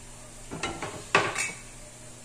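Chunks of taro and sweet potato drop into a cooking pot in a couple of quick clattering thuds with a brief sizzle-like rustle, close and fairly quiet, with no talking.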